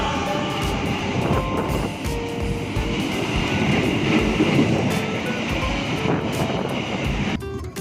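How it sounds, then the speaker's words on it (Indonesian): A KA Ranggajati passenger train from Jember to Cirebon runs straight through Wates station in Yogyakarta without stopping, a loud continuous rumble and rolling clatter that holds steady close by the whole time before dropping off sharply at the very end. "Ada KA Ranggajati dari Jember, tujuan Cirebon, melintas langsung di stasiun Wates Yogyakarta"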